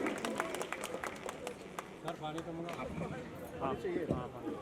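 A crowd at a kids' award ceremony in Meera Road claps to welcome Naresh Patil to the stage, a loose scatter of hand claps with an announcer's voice over the applause.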